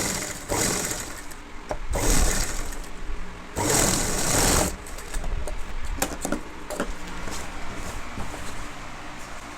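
A sewing machine stitches a school uniform pinafore in close, loud bursts of rapid running, three main runs separated by brief pauses, with shorter spurts following.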